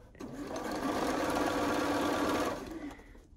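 Sewing machine stitching a seam on a Double Wedding Ring quilt, a steady fast mechanical whir running for about two seconds before stopping, close and fairly loud.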